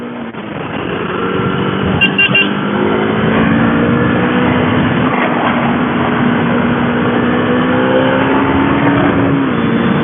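A KTM Duke 250 motorcycle accelerates hard past 7000 rpm on a test ride. Its loud, close engine note climbs steadily over ten seconds with wind rush underneath.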